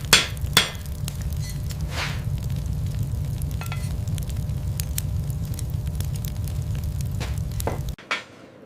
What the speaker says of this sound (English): The heavy hammer is for rough shaping, then we move to the medium hammer for refinement, and finally the light hammer for detailed.